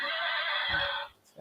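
A toy horse gives a sustained electronic neigh, about a second long and fairly clear, in a quiet room, cutting off before a brief spoken word.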